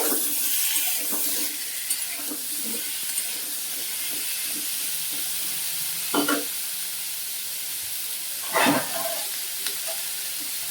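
Potato pieces fry in oil in a pan with a little salt, giving a steady soft sizzle with occasional stirring scrapes and bursts of louder crackle.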